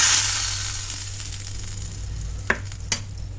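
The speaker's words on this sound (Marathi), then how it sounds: "त्यामध्ये मी जिरे, मोहरी, कढीपत्ता घालून चटणीला आपल्या छान फोडणी देणार आहे." Cumin, mustard seeds and curry leaves sizzle in hot oil for a chutney tempering, a loud crackling hiss close by that fades a little, with two sharp pops near the end.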